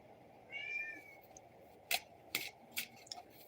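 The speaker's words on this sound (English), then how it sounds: "There's always a kitty meow." A house cat gives a single soft, drawn-out meow near the microphone, followed by a few sharp clicks and taps in an otherwise quiet room.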